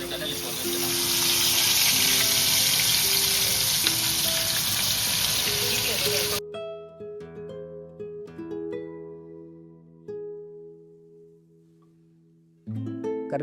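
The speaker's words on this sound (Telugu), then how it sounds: "ఇలాగా మ్యారినేట్ అయిన చికెన్ని బయటికి తీసి ఇలా ఆయిల్లో వేస్తే అలా అయిపోతాయి." Marinated chicken pieces dropped into hot oil: a loud, dense frying sizzle fills the first half, then cuts to quieter intermittent crackling with background musical tones and tones.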